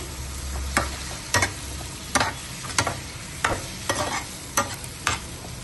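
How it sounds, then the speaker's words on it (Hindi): Chinese fried rice is stir-fried with soy sauce, sharp rhythmic scrapes of a spatula against the pan landing about every half second over a soft sizzle, close and with no voices. "2 टेबलस्पून सोया सॉस, अच्छे से मिक्स करेंगे।"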